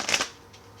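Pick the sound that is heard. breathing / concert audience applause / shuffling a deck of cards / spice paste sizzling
shuffling a deck of cards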